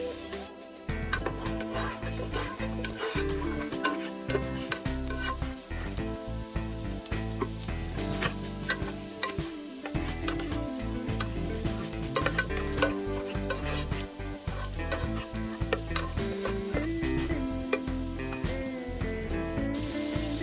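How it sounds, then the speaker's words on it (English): Minced garlic sizzling in extra virgin olive oil, a loud continuous crackling fry with constant stirring and scraping close by, no talking. "Add the minced garlic."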